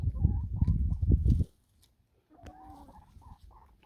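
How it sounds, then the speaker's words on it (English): Backyard chicks cluck in a loud, rapid burst of close calls, then a pause, followed by a few softer, scattered clucks. "Look at you chicks over here."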